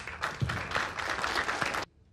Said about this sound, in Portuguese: Um aplauso a eles mais uma vez